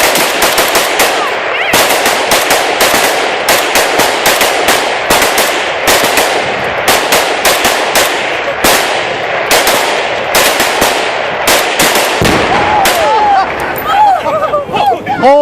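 Rapid gunfire aimed at a 4 lb Tannerite exploding target set against a dresser outdoors, heard as a dense volley of sharp, loud, close cracks and booms that ends in a bigger blast, followed by excited shouting.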